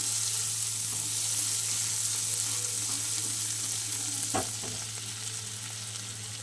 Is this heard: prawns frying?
yes